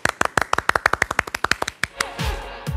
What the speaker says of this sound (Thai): ปรบมือดังๆให้กับไมค์ธีรัช